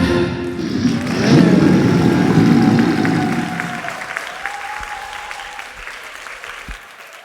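Congregation applauding during a Sunday church worship service, a dense wash of clapping that swells in the first seconds and then thins out, with music and a few sustained tones lingering on top.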